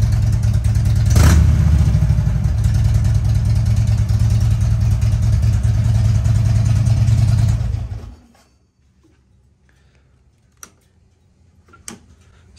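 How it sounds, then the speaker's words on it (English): A Harley-Davidson motorcycle engine idles loudly and steadily with a lumpy, ticking rhythm for about eight seconds, then shuts off, leaving near silence broken by a couple of faint clicks. "I love the way this bike sounds."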